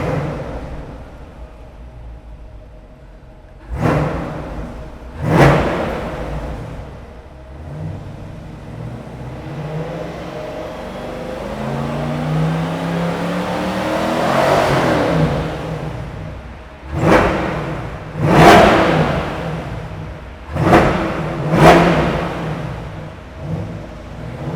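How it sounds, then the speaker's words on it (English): A 2020 Corvette engine revs hard several times in quick bursts, each climbing sharply and then falling back, with a steady idle in between and a longer swelling rev in the middle. "then we'll put it into track and give it a couple revs"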